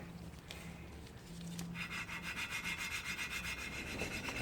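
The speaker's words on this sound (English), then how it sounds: "It takes probably 3 or 4 minutes per valve to grind in." Small engine valve being lapped by hand, a steady rhythmic rubbing grind of valve against seat with quick back-and-forth strokes, close and fairly quiet, with no talking.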